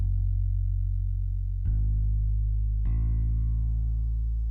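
Soloed studio bass in Logic Pro X with a light bit crusher effect: deep, sustained notes that change twice, each change starting with a soft attack, played alone and up close.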